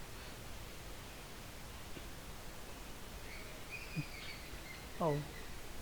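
Birds calling outdoors, a few short chirps near the end, faint and fairly distant over a steady hiss of background noise.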